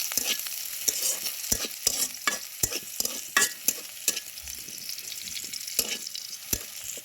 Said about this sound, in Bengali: পেঁয়াজ কুচি দিলাম, কাঁচামরিচ কুচি দিয়ে এটাকে ভালো করে একটু নাড়াচাড়া করে নিয়ে